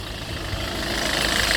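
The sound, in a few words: Citroën Nemo van engine idling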